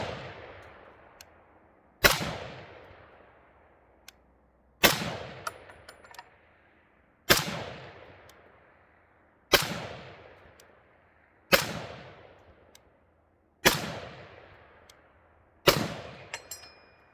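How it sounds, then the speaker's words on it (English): Royal Tiger Imports M1 Garand rifle firing eight rounds downrange outdoors: sharp, loud individual shots spaced about two seconds apart, each with a long decaying echo, no talking. "Let's go ahead and fire some rounds down range."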